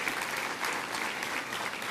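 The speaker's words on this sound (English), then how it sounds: "But let's give another round of applause." Audience applause at a 2006 Richmond Academy graduation ceremony, a dense, steady clapping that fills the whole stretch without a break, moderately loud with no voices standing out.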